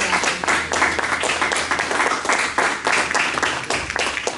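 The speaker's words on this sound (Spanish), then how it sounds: "Pues un fuerte aplauso, por favor." Close, loud applause from a small audience at the end of a lecture on art, advertising and visual colonialism, a brisk rhythmic patter of individual claps lasting a few seconds.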